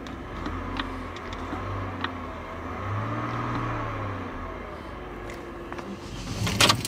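A car engine idles steadily and is then revved a little, with a low rumbling hum throughout and a brief louder burst near the end, close by.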